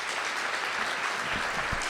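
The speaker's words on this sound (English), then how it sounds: "A big round of applause over here to John Gesselmino and Lorenzo Cordoba" Audience applause for the sound and video crew at a small live show, a steady wash of clapping filling the whole moment without any talk.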